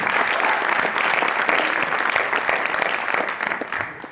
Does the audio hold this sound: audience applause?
yes